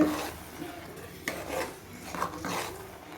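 Sambar rice in a pot is stirred with a ladle, giving a few soft scraping and squelching strokes with faint metallic contact, close and moderately quiet.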